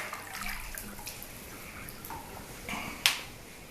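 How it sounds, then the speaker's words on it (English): Water drains out of a deep hotel bathtub with a steady, soft rushing wash, ending with a sharp click near the end. "I'm gonna go ahead and let the water out."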